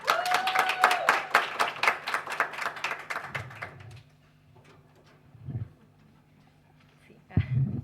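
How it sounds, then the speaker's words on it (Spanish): An audience at an academic literature colloquium claps steadily for a few seconds, then the applause fades into a quiet room with soft thumps and shuffling. "un aplauso muy fuerte para ella"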